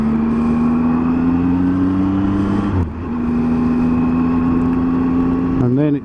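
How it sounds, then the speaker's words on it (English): From a 2018 Triumph Tiger 800 XRT motorcycle, its steady engine drone runs loud and close while an oncoming vehicle sweeps past in a brief whoosh midway, the bike's note dipping and then resuming, with faint rider-area noise. "Vehicle coming the other way"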